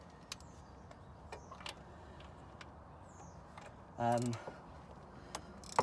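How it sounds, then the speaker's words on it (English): A ratchet with a 13 mm deep socket on an extension undoes a nut on a BMW E34 M5 3.8 clutch slave cylinder: sparse clicks, then a short burst of fast ratcheting ticks near the end. "So I've just got a 13 mil deep socket on an extension."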